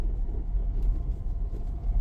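A car pulling away in first gear during a beginner driving lesson, its engine a low, steady rumble that swells gently as speed builds, close and continuous with no talk.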